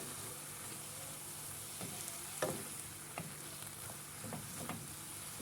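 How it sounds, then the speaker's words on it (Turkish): Zucchini sautés in oil for a yogurt zucchini meze, giving a steady close sizzle broken by occasional scraping stirs of a spoon against the pan, with no talking. "Şöyle yarım çay bardağı yağı üzerine gezdiriyorum. Ocağa alıyorum. Güzelce soteliyorum."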